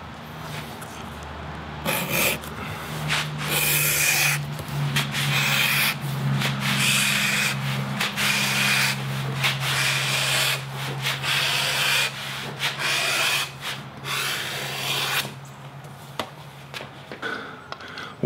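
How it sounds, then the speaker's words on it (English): A leather strip is pulled through a strap cutter, producing a sustained close rasping, scraping drag in long strokes with brief pauses and a faint low hum underneath, no voices. "you just put your leather through there and ride this fence right here"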